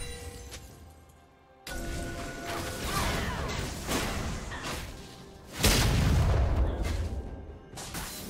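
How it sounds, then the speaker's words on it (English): A turret is destroyed in League of Legends with a loud boom and crash that swells in at about 1.7 seconds and peaks in a heavy blast near 5.6 seconds, with whooshing effects and no talk. "Blue team's turret has been destroyed."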